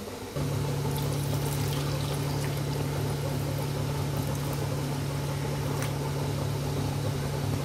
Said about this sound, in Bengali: এই যে জল দিয়ে দিলাম, জল দিয়ে ভালো করে একটু ভিজিয়ে রেখে দিলাম।